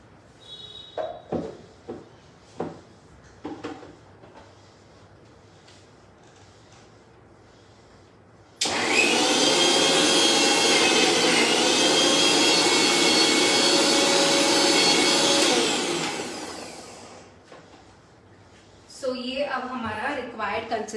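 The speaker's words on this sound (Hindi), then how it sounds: "Okay, so I will just grind it once again." A mixer grinder grinds boiled ingredients without water in one loud, steady whirring burst of about eight seconds that then winds down, with talk before and after it.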